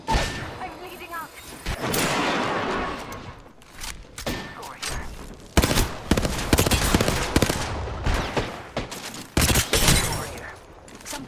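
Dense, continuous gunfire in the Apex Legends video game, with overlapping rapid shots, thuds and impacts at close range, mixed with faint voices.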